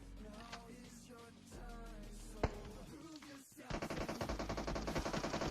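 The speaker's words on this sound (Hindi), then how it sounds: "अब तभी उस पार से फायरिंग हुई" Bursts of gunfire in PUBG Mobile, with a sharp single shot midway and then a long, steady burst of rapid automatic fire from across the map, loud and dense over the game's background noise.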